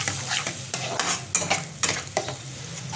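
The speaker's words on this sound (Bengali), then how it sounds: "দিয়ে দেবো গুঁড়ো মশলাগুলো, হলুদ, লঙ্কা, ধনে আর জিরে।" Ground turmeric, chilli, coriander and homemade roasted cumin sizzling in hot oil in a pan while a spoon stirs, with scraping strokes over a steady close frying hiss and no talk.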